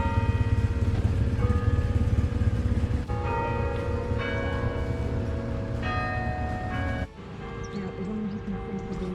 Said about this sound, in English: we can hear the bells chiming